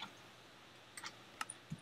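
Typing on a computer keyboard while playing Minecraft: a few faint, sparse key clicks, spaced irregularly across under two seconds, with quiet background between taps.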